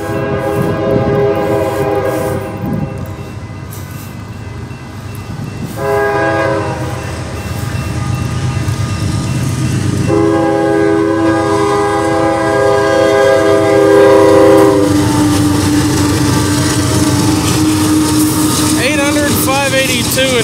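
Eastbound CSX freight train rolling past close by and loud, its horn sounding in repeated long chords over the steady rumble and rattle of the cars, with a person talking now and then.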